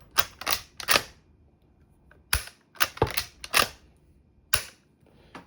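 Sharp metallic clacks and clicks of a Kolser replica 1892 Winchester lever-action rifle mechanism being cycled, in quick clusters separated by short pauses, close and isolated.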